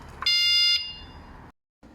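A Ducati Multistrada 950 motorcycle alarm system gives one loud, piercing electronic beep, followed by a short stretch of quiet and then a brief gap of silence.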